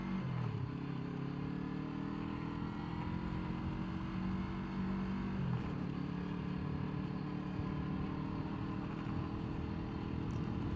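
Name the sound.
Yamaha MT-03 motorcycle riding around neighborhood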